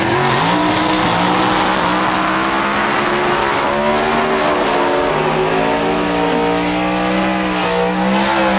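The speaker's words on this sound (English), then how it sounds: "He has been, like Matt Hines in the bike, the dominant car here on race day." Pro stock drag race car at the 1998 NHRA Route 66 Nationals roars at full throttle, a loud, close engine howl with rising gear-change sweeps and a second car's engine layered in, sustained throughout.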